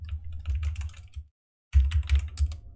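Close, quiet clatter of keys on a computer keyboard in two short bursts of typing separated by a brief pause.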